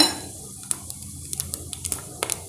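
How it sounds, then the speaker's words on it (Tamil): Cinnamon, cloves, cardamom and fennel seeds crackle in hot oil in a pan, a low frying hiss broken by a scattering of sharp pops and light utensil clicks, close and brief. "இப்போ நாம் பட்டை கிராம்பு ஏலக்காய் சோம்பு இதெல்லாம் போட்டு தாளிச்சிடலாங்க"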